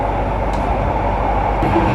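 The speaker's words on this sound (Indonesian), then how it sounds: "Menjelang stasiun TMII, kecepatan LRT menjadi normal lagi. Ngebut nih sekarang." Steady, loud rumble of a Jakarta LRT train running fast near TMII station, heard from inside the car with a constant roar of wheels on rail and no pauses.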